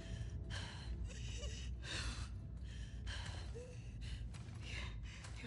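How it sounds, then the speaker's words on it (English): Labored, heavy breathing from a character in The Last of Us Part 2, a steady run of ragged, rasping breaths with audible gasps and sighs, close and continuous over a low rumbling background. "Your breathing's worse."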